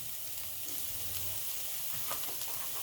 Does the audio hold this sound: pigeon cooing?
no